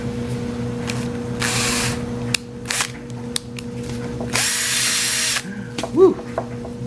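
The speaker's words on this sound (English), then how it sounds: "Okay, so I'm gonna try to get my second pilot hole." A power drill whirs in bursts while boring a pilot hole for a custom Pelican case project, two longer high runs and a few brief spurts amid handling clatter and a steady hum.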